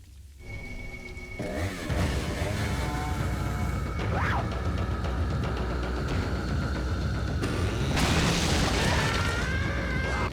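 Shotgun blasts from the Resident Evil 4 video game, a few booming shots with mechanical clatter amid continuous in-game noise, loud and close.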